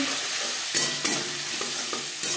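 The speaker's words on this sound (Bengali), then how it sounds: "টমেটো হালকা করে ভেজে নেব।" Tomatoes frying lightly in a pan for a vegetarian chana dal, a constant close sizzle broken by several sharp scrapes and clinks of a stirring utensil, with no talk.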